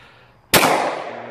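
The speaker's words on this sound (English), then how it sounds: "now he's gonna go ahead and shoot the 9mm, my SIG P320 down there." A single sharp pistol report from a 9mm SIG P320 fired outdoors at a distance, an abrupt crack followed by a decaying echo.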